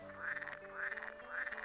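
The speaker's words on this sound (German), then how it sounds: "Ein Frosch." A frog in the video game Galador croaks three times at an even, repeating rhythm, clear and close with no talk.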